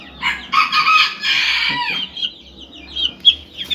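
A Turkish ispenç rooster crows loudly up close, one drawn-out call followed by quieter clucks and short calls.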